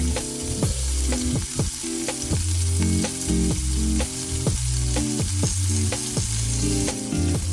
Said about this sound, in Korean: 해동해둔 새우 8개를 프라이팬에서 구워줄게요